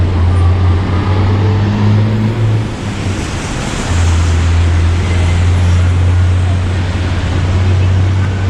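Steady road traffic outside a hotel in China on a rainy day, a continuous low engine rumble and tyre wash with a dip partway through, loud and close.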